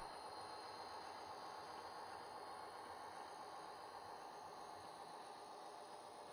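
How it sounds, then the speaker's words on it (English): A model train runs past on a layout, a steady, fairly quiet rolling hiss of rails and wheels that holds even throughout, with no talk. "Train's coming back to do our runaround."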